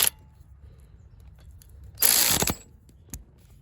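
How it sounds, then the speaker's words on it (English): A ratchet wrench tightens 12mm bolts on the EGR valve of a 2010 Honda Accord, giving a brief close burst of rapid clicking followed by a short single click, otherwise quiet. "I'm going to go ahead and tighten this up. Tie both 12mm bolts."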